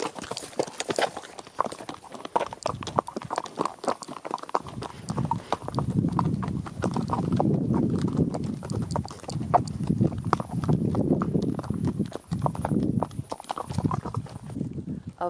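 A horse on a trail ride through the Andes at the Perez Cruz vineyard in Chile's Maipo Valley, with steady, close clip-clop hoofbeats throughout and people talking intermittently over them.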